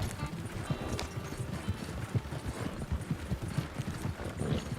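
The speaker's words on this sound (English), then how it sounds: "And we got these horses moving down the trail at a pretty good pace." Horses pulling a wagon trot along a foggy trail in a video game, a steady rapid clip-clop of hooves running throughout at a brisk pace, close and moderately loud.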